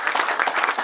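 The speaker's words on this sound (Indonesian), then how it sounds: "Tepuk tangan untuk semua." Audience applause at a community organisation's general assembly, a brief burst of dense clapping from a crowd lasting under a second.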